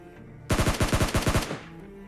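Rifle fire in the PUBG Mobile Lite shooter game, where an AWM sniper rifle is in play: a loud, close burst of about ten rapid shots lasting roughly a second, standing alone against faint game background.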